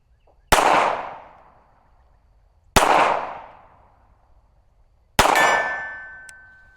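Three Girsan MC 1911 C pistol shots strike a steel target at roughly 35 yards, each a sharp close bang with a ringing metallic clang that decays over a second or more, spaced about two seconds apart.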